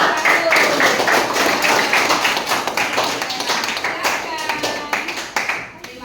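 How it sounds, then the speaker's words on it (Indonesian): A classroom group claps together for a student group, a dense burst of many hands that gradually thins into scattered, uneven claps over several seconds, with faint voices underneath. "Oke, tepuk tangannya untuk kelompok 1."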